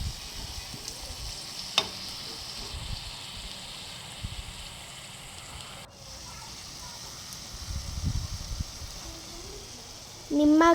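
Corn kernels frying in hot oil for crispy corn, a quiet continuous sizzle with faint bubbling, a couple of brief knocks, and a louder clatter right at the end.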